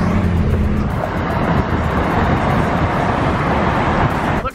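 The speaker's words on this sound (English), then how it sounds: "The commute traffic this morning is absolutely ridiculous." Heavy morning commute road traffic, a loud continuous roar of car engines and tyres close by, steady for several seconds before dropping off at the end.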